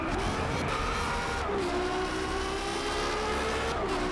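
Loud race car engine from the racing video game Driveclub, a steady sustained roar with shifting engine pitch and no pauses, filling the whole stretch with no talk over it.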